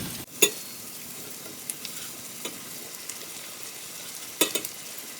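Spinach drops into a simmering pan of ingredients, bringing a low steady sizzle with a few sharp clatters and stirring clicks near the start and end.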